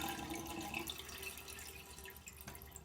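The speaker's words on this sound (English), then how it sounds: "we're going to go ahead and hold the handle down, but go ahead and keep the valve up so all the water drains out" Water drains out of a toilet tank while the flush handle is held down, a faint continuous trickling and dripping in a quiet bathroom.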